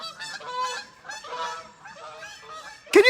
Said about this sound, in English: Do you hear the geese, Aaron?